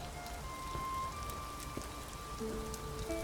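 Continuous rainfall outdoors in Elder Scrolls Online, an even hiss of drops on surfaces with faint tonal background ambience, no one speaking.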